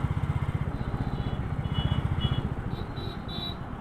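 Engine noise from street traffic at night, with a motorcycle idling or passing close by; a steady, rhythmic low engine pulse stays loud through the whole stretch, with faint higher whines drifting in near the end.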